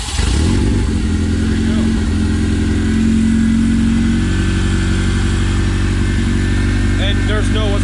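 Honda K20 engine in an EF hatch K-swap fires up with open headers, then holds a loud, raw idle with short revs close by, while a voice briefly speaks over it.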